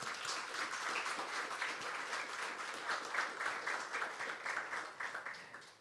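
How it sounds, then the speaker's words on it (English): An audience at a technical conference closing ceremony gives sustained applause, a dense even roar of many hands clapping at a moderate distance with no break. "by your show of applause and spreading some energy in the room"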